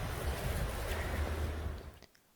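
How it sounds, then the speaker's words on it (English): Surf washing onto a rocky Maltese shoreline, a broad roaring wash of wind and water that sounds close and loud before fading off near the end. "Crashing waves."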